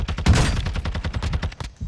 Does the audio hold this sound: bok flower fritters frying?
no